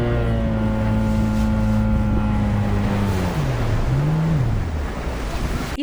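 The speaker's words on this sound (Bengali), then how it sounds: "চারদিকে শুধু অথই পানি, আর ঢেউয়ের তালে বোটে লাফিয়ে ওঠা সেই অনুভূতি" A speedboat races over open sea waves at Kuakata, its loud droning engine holding a steady pitch before dipping and rising as the hull slaps through the swell, with wind and water rushing close by.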